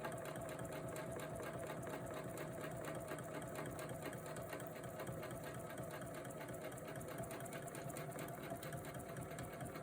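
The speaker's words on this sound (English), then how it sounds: "So start by quilting a swirl." A sewing machine quilting a swirl into a quilt runs in a fast, even stitching rhythm throughout, fairly quiet and with no talk.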